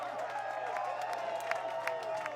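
A crowd at a disc golf tournament, the 2025 MVP Open, claps and cheers in a steady, lively wash with sharp individual claps popping out, while a commentator talks over it.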